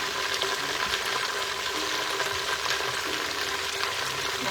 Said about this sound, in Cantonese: 開始煎啦。